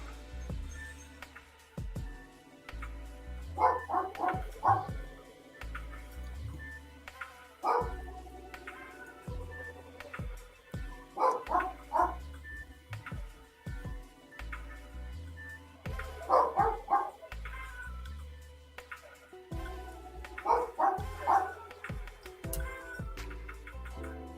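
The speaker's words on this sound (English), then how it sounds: "Heard another dog barking." A dog barks in short bursts of several quick barks, repeated every few seconds, moderately close, with quiet gaps between volleys.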